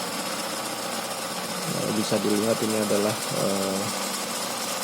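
A feed mixing machine for fermented duck and chicken feed runs with a steady mechanical drone, while someone speaks over it partway through.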